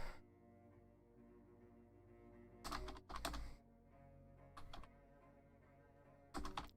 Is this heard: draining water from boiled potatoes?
no